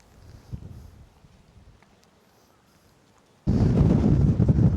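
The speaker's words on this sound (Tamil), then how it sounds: "இந்த மரம் தாங்க பயங்கரமாக அப்படியே ஆடுது" A tree on a rocky hillside at Samanar Hills near Madurai roars in strong wind, starting faint and then surging into a loud, steady rushing gust for the last second and a half.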